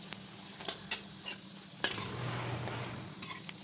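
Luchi frying in oil, a soft steady sizzle under scattered clinks and stirring taps from a pan and utensils, close and fairly quiet, with no one speaking.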